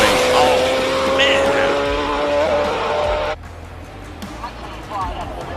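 Robbie Walk's hillclimb race car with an IndyCar engine at Simola Hillclimb, screaming loud and high-revving as it passes, the engine note shifting up before cutting abruptly to a quieter, more distant drone.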